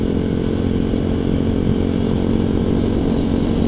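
A ZS190 Grom clone motorcycle engine roars steadily and loudly while riding, a dense, buzzy drone held at constant revs close up with no pauses.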